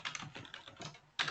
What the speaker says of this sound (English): Sorry about the typing, guys. I know it's loud.